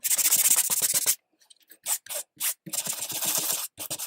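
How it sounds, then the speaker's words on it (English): Cardstock paper sanded by hand, quick rhythmic scraping strokes in bursts with short pauses between them, close and fairly loud, no voices. "I'm just going to sand away on this for a second"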